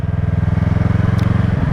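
Motorcycle engine at higher speed while leaning into a turn, a loud, close, steady pulsing drone with a rapid regular beat, alone without talk.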